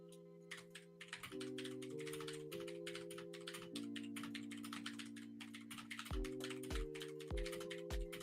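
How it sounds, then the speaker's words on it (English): Rapid keyboard typing, a dense flurry of clicks over a sustained steady electronic tone, close and fairly loud. "You hear the speed he's typing away."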